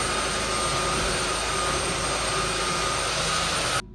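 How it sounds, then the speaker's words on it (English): A power router cuts along the edges of wooden stair treads, a loud, steady high-pitched whine running continuously close by and cutting off abruptly at the end, with no talking. "Then I'll be ready to route these edges here."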